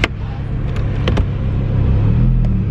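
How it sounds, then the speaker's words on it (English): A Lamborghini cruises on the motorway, its loud engine giving a steady, close, deep rumble from inside the car with a slight swell toward the end. "This is cruising on the motorway. It's a pretty loud car."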